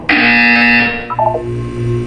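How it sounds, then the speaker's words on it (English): A Portal 2 test-chamber buzzer sounds as one loud, sustained harsh electronic tone lasting about a second, then a short descending blip pattern and a lower hum trail off, with no voices. "When you hear the buzzer, look down at the floor."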